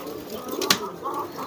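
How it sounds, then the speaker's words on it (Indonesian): A market pigeon gives a soft, short coo close by, faint against a quiet outdoor background. "Terus ini nih ada merpati"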